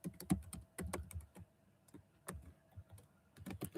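Code being typed on a computer keyboard, heard as quiet, fairly close key clicks that come in uneven little bursts, with a few louder taps and brief gaps between them.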